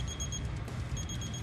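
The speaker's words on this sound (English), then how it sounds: "make the beeping noise." Timer beeping during a huge meatball eating challenge, a rapid repeating electronic alarm in short pulsed bursts, clear and close with a brief pause midway.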